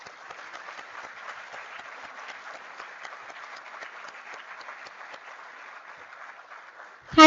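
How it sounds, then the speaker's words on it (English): A conference audience at an international business conclave applauds steadily for about seven seconds, a dense, even patter of many hands, before a louder sound cuts in at the very end. "May I request you all to join me in giving a big round of applause to Mr. Nandkishore Vijay, sir."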